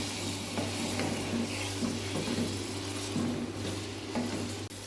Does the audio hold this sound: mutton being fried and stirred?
yes